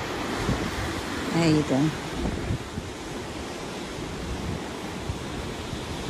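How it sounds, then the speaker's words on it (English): Waves surge and wash at open sea from a ship's deck, a steady broad rush mixed with wind buffeting the microphone, while a voice speaks briefly near the start. "I'll miss those waves"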